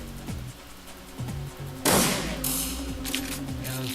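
Gunfire from the turn-based game Shadowrun Returns: a burst of shots lands near the middle, loud and close, over a soft musical background.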